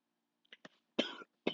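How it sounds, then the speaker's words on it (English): A person coughs during a comic-book reading: a few short, dry throat-clearing bursts followed by two louder, harsher coughs, close and clear against a quiet background. "this is what happens when you try to read comics back to back. You get a cough."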